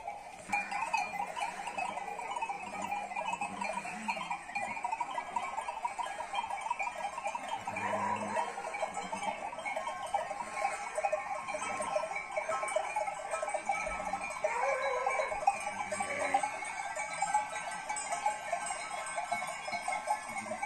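Sheep and a newborn lamb at a rural village farm, with steady overlapping bleats and jangling livestock bells across a continuous busy outdoor background.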